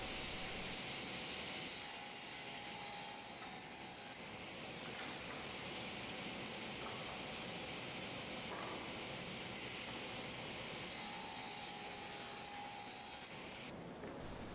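A power saw cuts wood pieces to final length in a workshop making a foot stool. Two long cuts of steady, high whining blade noise sit over a constant low machine drone, fairly faint and distant.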